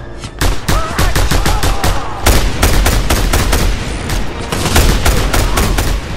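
Rapid bursts of automatic gunfire from the Just Cause 2 video game, loud and dense, with many sharp shots in quick succession over about six seconds and no talk.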